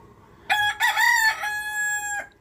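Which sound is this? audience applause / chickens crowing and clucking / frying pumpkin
chickens crowing and clucking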